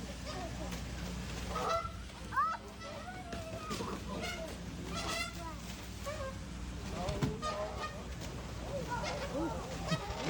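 A goose inside a tiger enclosure honks repeatedly in irregular bursts, moderately near, with people talking over and between the calls.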